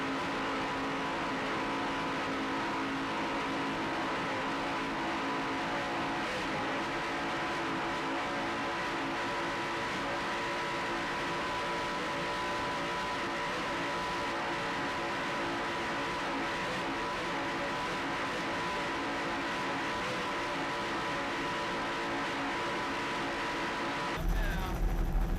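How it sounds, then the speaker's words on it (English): Sterling performance inboard engines on racing powerboats drone loud and steady throughout, a sustained throaty roar with layered tones, ending in a brief burst of wind or water noise. "Just listen to those Sterling performance inboards."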